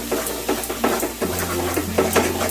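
A spoon stirs thick mashed taro mixed with sugar and mustard oil in a pan with a soft sizzle, making rhythmic close scraping strokes about twice per second over a steady low hum.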